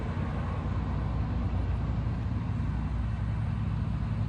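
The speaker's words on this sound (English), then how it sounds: "You hear the cars moving?" City traffic with cars moving past, a steady low rumble of engines and road noise heard at a distance, continuous and fairly quiet.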